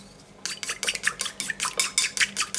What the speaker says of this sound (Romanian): Bateți bine, bine, până primiți o spumă.